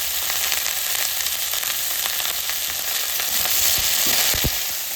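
Sliced ridge gourd sizzles steadily in a hot pan with salt, a dense, loud, continuous frying hiss with faint stirring scrapes and no voices.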